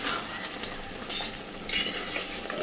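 A spoon stirs Bengali chicken kosha, a chicken curry, in a pan on the gas flame after coriander leaves and kasuri methi go in. Close scraping and clinking strokes come in uneven bursts over a soft sizzle, with no voices.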